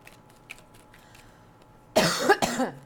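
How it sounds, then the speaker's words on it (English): Two harsh coughs in quick succession near the mic, following a few seconds of quiet room noise with faint clicks. "I apologize for my cough."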